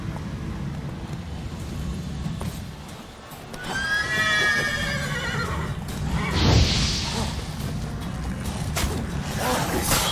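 Roach the horse in The Witcher 3 gives a clear, loud whinny partway through, rising and then falling off, over a low rumble of outdoor wind and movement.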